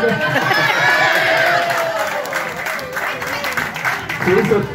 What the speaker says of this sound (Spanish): Un aplauso para el asador.